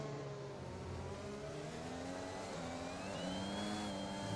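In the F1 2021 racing game, a race car engine drones and revs with rising and falling pitch through a section of track, steady and moderately loud, with no talking.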